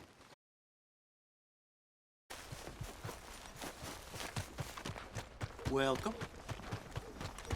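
A horse's hooves clip-clop in Red Dead Redemption 2, a steady run of close, even hoofbeats starting after a short silence, with brief speech and a tonal game sound partway through.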